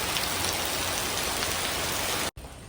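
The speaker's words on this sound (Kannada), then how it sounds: "ಜೋರು ಮಳೆ ಬರ್ತಾ ಉಂಟು ನೋಡಿ" Heavy rain pours steadily in a dense, even hiss, close and loud throughout, with a brief dropout near the end.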